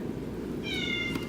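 A pet cat meows indoors, one drawn-out, slightly wavering meow in the middle, moderately close, over a steady low background hiss with no talking.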